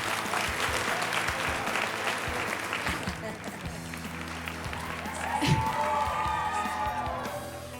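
An audience at a youth leadership forum applauds, a broad wash of clapping and crowd noise that gradually thins, with voices talking and a brief cheer near the end.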